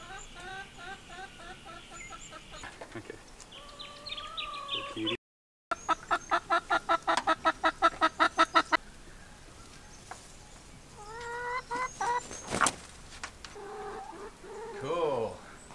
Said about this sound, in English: So I'm really excited to welcome six more beautiful hens at Egg Laying Point right onto our property.